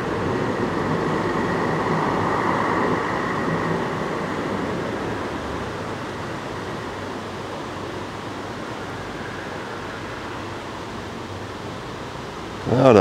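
Steady rumble and rolling hiss inside a regional express train running from Fridingen to Sigmaringen, continuous and fairly loud throughout, with a brief louder jolt at the very end.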